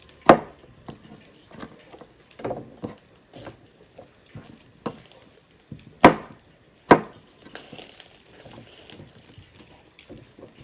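A knife chops potatoes into chips on a cutting board, giving a handful of sharp, close thuds spread irregularly over a quiet kitchen background, with a couple of louder strikes standing out.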